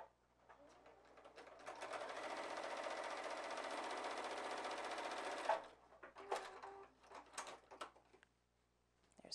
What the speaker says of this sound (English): let me stitch these 2 together, just like I would any other patchwork in a quilt project